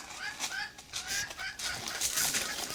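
A hen clucks in a garden with good topsoil, giving soft repeated clucks at a distance, faint against outdoor background noise.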